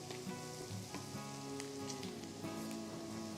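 Chopped spring onion whites, capsicum and carrot stir-frying on high flame, a continuous bright sizzle with soft stirring, close and steady.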